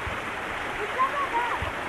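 A small creek at a campground in David Crockett State Park gives a steady soft rushing hiss of flowing water, faint and close, with brief background sounds over it.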